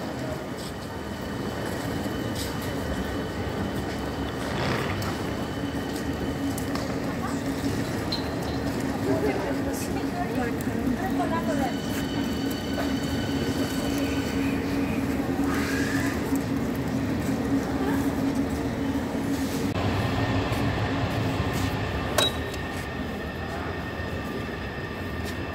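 An S46 S-Bahn train pulls into platform 12 at a Berlin station, a steady rolling rumble and hiss running for about 25 seconds, with an announcer's voice heard over it.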